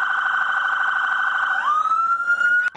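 A police cruiser or ambulance siren at a community bike-ride health event wails loud and close in a steady tone, then shifts pitch and switches pattern before cutting off abruptly.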